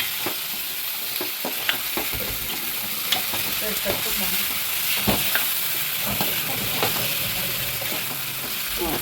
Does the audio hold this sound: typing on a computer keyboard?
no